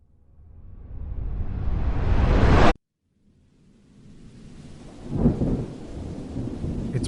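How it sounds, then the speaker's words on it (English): A roll of thunder builds to a loud crack and cuts off sharply. Steady heavy rain then fades back in, with another low rumble swelling midway through. "It's been raining the last few weeks non-stop. The gentle sound of it knocks me out while I'm laying in bed."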